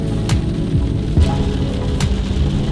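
Heavy rain pouring steadily in a loud, dense wash with a low rumbling hum underneath and a few brief sharper taps, no talk.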